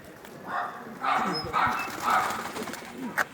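A pigeon coos nearby in a few soft, rolling calls, close and fairly loud, with quiet background noise.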